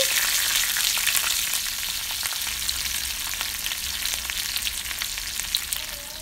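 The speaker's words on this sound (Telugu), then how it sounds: "చిన్న అల్లం ముక్కలు కరివేపాకు వేసుకొని కొద్దిగా వేయించాలండి" Small ginger pieces and curry leaves fry in hot tempering oil for quinoa pongal, giving a steady, close, bright sizzle with faint crackles throughout and no talking.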